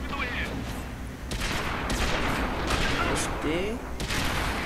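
Tank cannon fire and battle noise in World of Tanks, dense repeated booms and rumbling over a constant backdrop while someone talks briefly.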